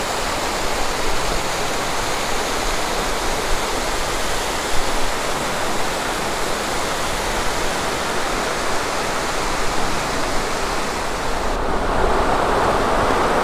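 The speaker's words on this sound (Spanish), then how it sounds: "Aquí tenemos la cascada Iris" Iris waterfall at Monasterio de Piedra Natural Park, Spain, roars steadily and loudly, a constant broadband rush of falling water with no voices, unbroken from start to finish.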